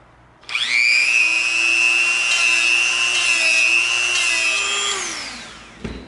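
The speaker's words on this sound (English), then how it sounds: "you can use a really rough bit, which is going to tear off a lot of material" Dremel rotary tool fitted with a rough bit grinds into the edge of EVA foam, giving a close, loud, steady high-pitched whine that spins up sharply, holds for about four seconds, then winds down.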